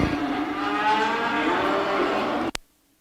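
Cattle lowing loudly and continuously at a commercial cattle show, a long drawn-out moo from a pen of heifers that cuts off abruptly near the end, leaving near silence.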